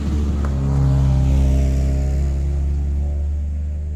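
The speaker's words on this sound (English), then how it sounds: "A car is going to pass." A car drives past close by, its engine tone rising and swelling to a peak before easing off, loud and alone.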